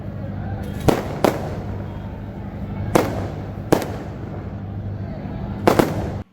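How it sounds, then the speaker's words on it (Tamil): Firecrackers burst at a DMK political party meeting: about six sharp, loud bangs at uneven intervals cut through a steady roar of crowd noise and amplified talk. "கூட்டத்தில் TR பாலு பேசிக் கொண்டிருந்த போது திடீரென பட்டாசு வெடித்தது"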